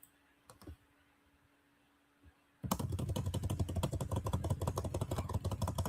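After a couple of seconds of near silence, rapid keyboard typing starts up close, a dense, fast stream of clicking keystrokes that continues to the end.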